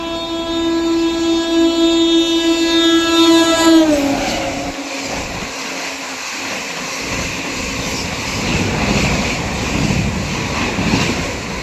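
The Sampoorna Kranti Express special train sounds a long, loud horn as it approaches, then roars past close by with steady rumbling and clattering wheels on the rails.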